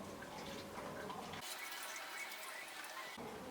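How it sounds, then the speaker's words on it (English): Marinade pours over chopped pork with a soft wet splashing and trickling, quiet and close, then stops. "we're going to take that marinade that we made earlier and just going to pour it straight in there"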